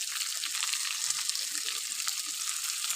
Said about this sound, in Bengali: আলুটা দিয়ে আর একটু নেড়ে নিয়ে তার মধ্যে